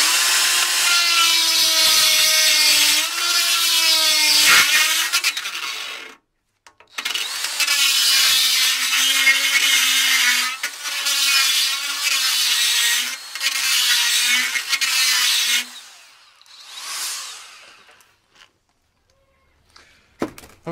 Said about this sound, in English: grab the die grinder and kind of just grind the top up